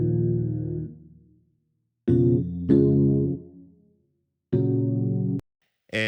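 Bounced-down synth chord progression played back loud and near: long sustained chords with silent gaps between them. One chord fades slowly, others cut off sharply, and a final chord starts right at the end.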